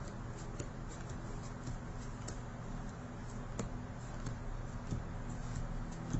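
Playing cards being dealt one by one during a forced-choice card trick, a steady run of soft flicking snaps close by over a low hum, with no talking.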